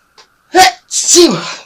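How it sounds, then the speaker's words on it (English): A single loud sneeze with a sharp inhaled lead-in and a forceful, voiced burst, close to the microphone. "Oh, I'm going to sneeze."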